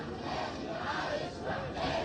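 A live crowd sings the opening line of a song along with the performer, a dense, loud wash of many voices in unison that swells slightly and carries on steadily throughout.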